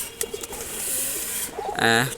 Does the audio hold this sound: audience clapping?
no